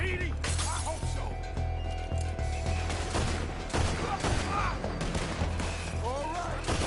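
Gunfire crackles through a chaotic Red Dead Redemption 2 street shootout, with repeated sharp shots and crashes over a steady low rumble while voices shout throughout.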